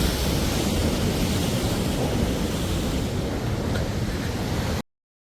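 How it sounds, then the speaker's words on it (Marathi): Strong, fast river flow near Madmaheshwar roars as a steady, loud broadband rush of water close by, continuous without a break until it cuts off abruptly near the end. "फ्लो, जबरदस्त फ्लो आहे पाण्याचा."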